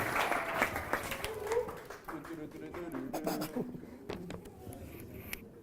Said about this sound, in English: This time, big round of applause, Mr. Scott Robson.